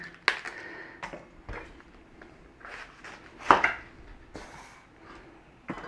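Cabbage chopped with a knife on a board, a handful of separate sharp thuds at uneven intervals, close and fairly quiet with soft handling noise between cuts.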